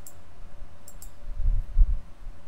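A computer mouse clicks on a software menu: two faint, crisp clicks in quick succession near the start, then a low, muffled thump or two over a quiet room hum.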